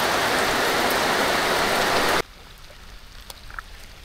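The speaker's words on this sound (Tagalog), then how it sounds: "Grabe, lakas ng ulan." Heavy rain pours loudly during a fishing trip on Pagbilao Bay, Quezon, then suddenly drops to a much quieter patter with scattered drips.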